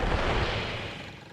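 Cartoon firecrackers go off as a short, loud, dense crackling burst that fades quickly, with no voices over it.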